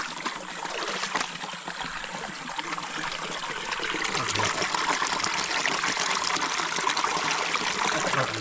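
Water flows and trickles steadily in a forest stream, a continuous close rushing splash that grows slightly fuller partway through, with faint voices mixed in.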